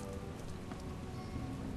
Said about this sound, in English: I made it rain.